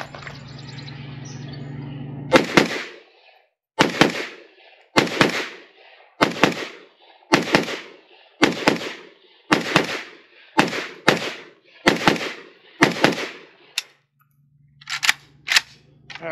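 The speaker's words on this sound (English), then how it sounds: "Got a couple targets set up here at 15 yards. We're just going to run some shots here" An AK rifle fitted with a Fime Group enhanced trigger firing single shots at targets 15 yards away, about a dozen loud sharp cracks at a steady, slightly uneven pace, with a quick double near the end.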